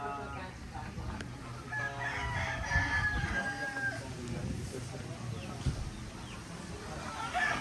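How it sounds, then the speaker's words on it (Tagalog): A rooster crows faintly in the distance amid soft background noise and scattered chicken sounds, with quiet talking nearby. "May mga manok din si Tatay Robin at baboy."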